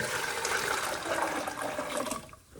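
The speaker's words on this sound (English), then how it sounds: "you want to put all the juice back into the pot that you cooked it in" Strained cooking juice is poured back into the pot it was cooked in, making a steady, close splashing stream of liquid for about two seconds before it cuts off abruptly.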